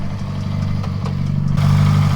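A Mitsubishi Lancer Evolution VIII engine idles with a low, steady rumble and some light clatter, growing slightly louder and rougher toward the end.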